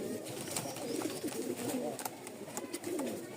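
A white crested Rajshahi pigeon with feathered feet cooing up close, a few soft low throaty coos over faint background noise.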